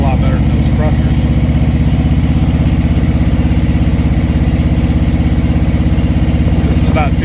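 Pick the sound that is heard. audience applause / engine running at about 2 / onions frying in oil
engine running at about 2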